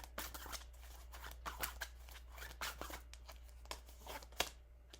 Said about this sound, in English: Damn, I did all that shuffling.